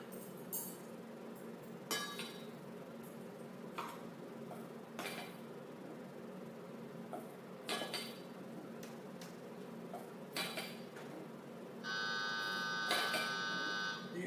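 A Rational commercial kitchen oven sounds its electronic buzzer alarm near the end, a steady tonal beep lasting a couple of seconds after quiet kitchen clinks and room noise.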